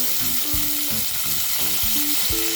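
Cumin seeds and curry leaves sizzle hard in hot oil for a mushroom gravy, a dense continuous crackle close by, with a repeating low tonal pattern underneath.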